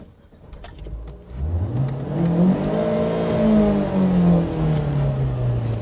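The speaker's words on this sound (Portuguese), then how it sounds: "É só engatar primeiro e acelerar." A car engine pulls away in first gear, starting from a low idle and then revving up in one steady, rising acceleration that holds loud and close for several seconds. No voices are heard over it.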